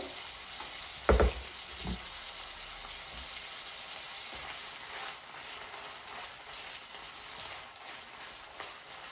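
Garlic slices frying in hot oil, with a steady low sizzle throughout and a couple of sharp louder crackles near the start, no voices.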